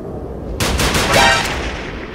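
Rapid automatic gunfire from a student-made video game rattles out in a quick burst of close, loud shots that begin abruptly from quiet and then fade.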